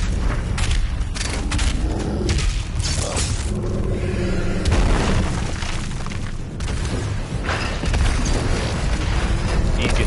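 Sticky bombs go off in a video game as a run of heavy booms and rumbling blasts mixed with mechanical game effects, loud and dense throughout.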